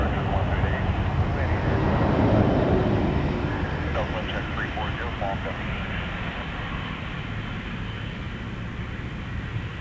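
An Air Canada Boeing 777-300 airliner lining up at Toronto Pearson gives a continuous engine rumble that swells early and then eases slightly, with faint chirping sounds in the middle.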